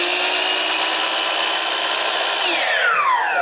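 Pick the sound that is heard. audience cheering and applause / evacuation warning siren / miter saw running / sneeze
miter saw running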